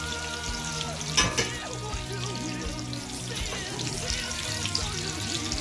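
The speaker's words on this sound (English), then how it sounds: "Let that fry up" Breaded veal cutlet frying in a pan for veal parmesan, a steady close sizzle with a brief louder burst of crackling early on, otherwise even and continuous with no talking.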